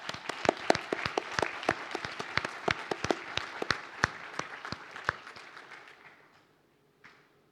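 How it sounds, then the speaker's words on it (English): Applause for graduates at a university degree ceremony, with sharp individual hand claps from a modest group, fairly close, thinning out and fading after about six seconds, then a single late clap. "Let us give a round of applause to the graduates who have just been presented."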